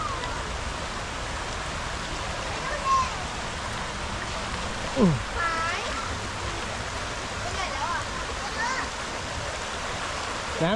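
Cool stream water flows steadily at a riverside campsite at Cha-om, Kaeng Khoi, a continuous broad wash with people playing in it and a few faint voices and splashes rising above the rush.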